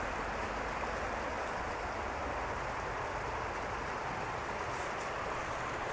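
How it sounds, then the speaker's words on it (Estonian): A small river, more a brook than a large river, flowing with a constant broadband rushing wash that holds steady and fairly loud from start to finish, with no talking. "et siin on jõgi."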